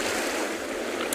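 Crashing surf and a northwesterly gale on a winter seashore at a penguin beach, a continuous broad roar of waves and wind buffeting the microphone, steady and close, with no voices.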